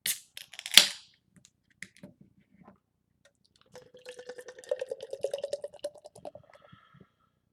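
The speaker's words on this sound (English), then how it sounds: "So let's go ahead and crack into this thing, give it a pour, and see what we're working with here." A beer can is cracked open with a sharp, close snap and hiss, then after a short pause the beer pours with a bubbling, gurgling splash that fizzes and trails off.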